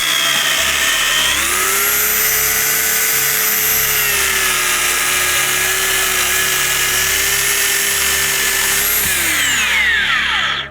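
A Dnipro-M 2.4 kW electric chainsaw revs up loud and close, holding a steady high whine as it cuts through firewood for several seconds before winding down.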